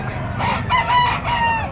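Chickens cluck and a rooster crows nearby over a busy background murmur at the Padre Garcia livestock auction market in Batangas, loud and continuous.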